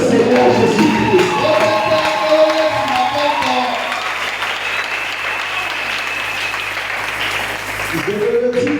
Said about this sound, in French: Oh, acclamons le Seigneur Jésus-Christ.